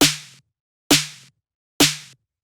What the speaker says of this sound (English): So it's just like a standard punchy 808 snare